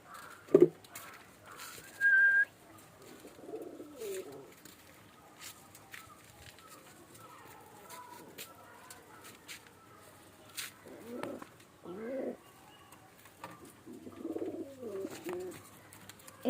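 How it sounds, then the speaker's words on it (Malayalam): Domestic pigeons, a fancy breed kept in pairs with chicks, give soft, low coos in scattered short bursts against a quiet background with a few brief whistles. "ഇത് പ്രാവ് തന്നെയാണ്, മുഗിപ്രാവ്."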